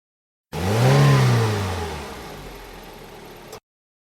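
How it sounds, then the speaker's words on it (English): A car engine revs up loudly, peaks, and then winds down over about three seconds into a fading idle rumble, heard close and alone. "Car."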